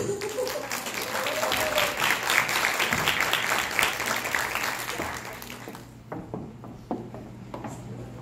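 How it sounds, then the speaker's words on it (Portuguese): Applause from an audience at an entrepreneurs' breakfast meeting in Campinas, a burst of clapping that swells and then thins into scattered claps as it dies away, with voices underneath. "Vamos receber com uma salva de palmas agora, Senhora Couto!"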